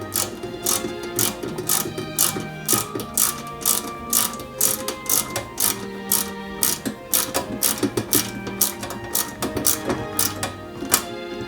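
Rapid, rhythmic mechanical clicking and ratcheting as small screws are driven into a Ford Gran Torino model kit, loud and close, with a continuous run of sharp ticks and no talking.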